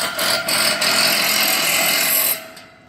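Hammer drilling into a concrete slab to fasten galvanized form pieces for a curb at a cabin build site: a loud, continuous gritty drilling roar for a couple of seconds with brief dips, then stopping into quiet.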